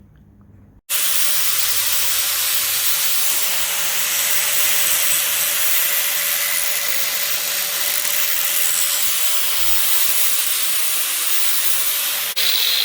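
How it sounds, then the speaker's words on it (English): A power grinder sharpens the non-threaded end of a metal rod into a ground spike for a landscape lighting stake, giving a loud, steady, hissing grind that starts abruptly and continues without a break for about twelve seconds. "The next step is going to be to sharpen the other end, the non-threaded end, to use as a ground spike."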